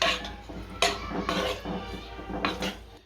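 Spoon stirring coriander into dahi tadka in a pan, giving a few sharp metallic scrapes and clinks against the pan at an uneven pace, close by.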